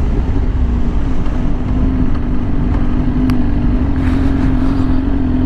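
A Yamaha R6 motorcycle with an aftermarket exhaust runs close by, producing a loud, steady, continuous engine drone with no clear revving swells.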